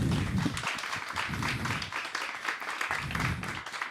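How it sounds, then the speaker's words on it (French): An audience at a live festival talk applauding, a dense, steady patter of many hands clapping that continues at a moderate level the whole time. "Vous pouvez les applaudir."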